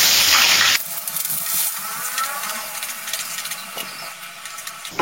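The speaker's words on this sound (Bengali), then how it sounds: "গ্যাসের ফ্লেমটা মিডিয়ামে রেখে ক্রমাগত নাড়াচাড়া করে পেঁয়াজটা ভেজে নিচ্ছি" Two medium chopped onions fry in hot oil over a medium flame, stirred constantly: a low, steady sizzle with scraping stirs after a louder hissing burst at the start, no voices.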